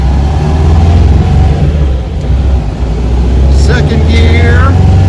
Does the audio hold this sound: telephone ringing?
no